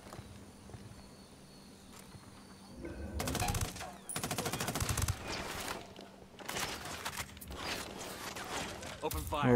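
Gunfire in Ghost Recon Wildlands: after a quiet start, loud bursts of automatic fire break out in several rapid volleys, close by, with a voice speaking among the shots.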